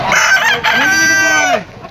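A gamefowl rooster at a pet market crows loudly and close up in one full cock-a-doodle-doo that rises and trails off, with faint background noise.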